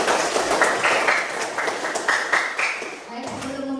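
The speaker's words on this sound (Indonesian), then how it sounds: "Beri tepuk tangan buat 8B." A school class of eighth-grade students claps together in a classroom, a busy patter of hand claps with some sharper individual claps, close by, with a voice briefly heard beneath.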